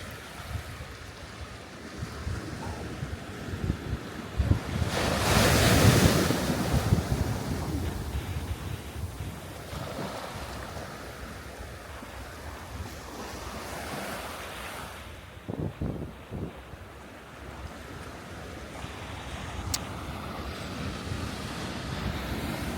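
Pacific Ocean waves roll and break on the shore, a steady wash of surf with wind buffeting the microphone and one stronger surge swelling midway.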